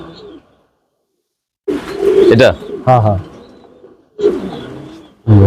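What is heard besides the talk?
pigeons cooing on a pigeon farm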